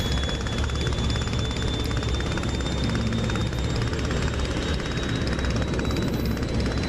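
In a DCS flight simulator, the rotary engine of a Sopwith Camel, a WWI biplane, drones steadily and loudly with no break, and no one speaks over it.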